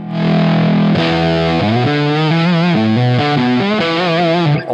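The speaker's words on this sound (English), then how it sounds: "It sounds like my favorite amps when they're all the way up." A heavily distorted electric guitar through a cranked amp plays a short descending riff of sustained chords, loud and fuzzy, with no talking.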